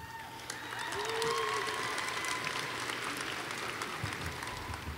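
A graduation ceremony crowd at the University of Louisville applauds, a soft, distant, sustained patter of clapping from a large hall that holds steady throughout, with faint tonal sounds above it.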